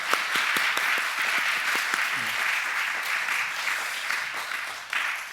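A church congregation at a Wednesday service in Sydney claps to encourage the Sunday school teachers; sustained moderate applause with a few distinct nearby claps at the start, steady throughout.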